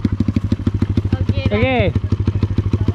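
A manual-clutch motorcycle idles with a steady, close, pulsing engine rhythm throughout, while a voice speaks briefly over it midway.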